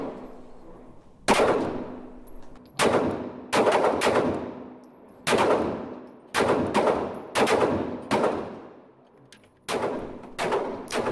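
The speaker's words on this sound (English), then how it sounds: "shooting the P10 I did have 6 failures today" Pistol shots from a P10 at a shooting range, sharp loud cracks fired in quick pairs and short strings with brief pauses between groups, each ringing out with a decaying echo.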